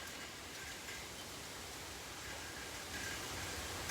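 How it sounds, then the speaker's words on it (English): Steady broadband hiss of a storm outside, heavy rain and wind roaring continuously at moderate level, alone without voices. "Okay, guys, so it's storming."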